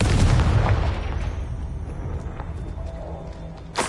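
A Confringo blasting spell explodes in Hogwarts Legacy with a heavy booming burst up front, its rumble trailing off over a few seconds, then a sharp smaller crack near the end.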